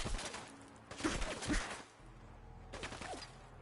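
Gunfire in the video game Fallout 4 aimed at the player, a few sharp bursts of shots around the first two seconds and again near the end, over a low steady game hum.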